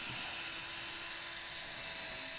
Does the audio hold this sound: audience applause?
no